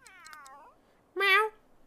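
A stray cat in The Sims 3 meows twice: a faint, drawn-out falling meow at the start, then a louder, shorter, close meow after a brief pause, in otherwise quiet surroundings.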